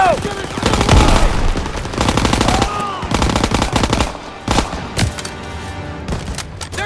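Heavy gunfire and machine-gun bursts from a World War II battle in Call of Duty: WWII, during the Stronghold mission: dense, loud volleys in repeated waves, with shouted voices partly mixed in.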